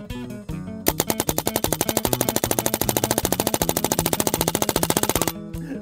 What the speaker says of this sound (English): I'm gonna empty 100 pellets into it.